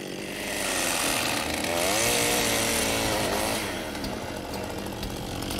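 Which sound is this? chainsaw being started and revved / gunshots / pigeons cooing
chainsaw being started and revved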